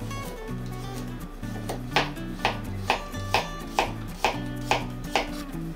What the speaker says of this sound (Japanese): これがベーコン炒め用のニンニク